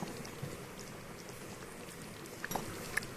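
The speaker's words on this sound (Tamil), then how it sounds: "குழம்பு நல்லா கொதிச்சிருச்சு" Soft, steady bubbling of a curry with ajwain dumplings simmering in a pot, quiet and continuous, with a few faint clinks near the end.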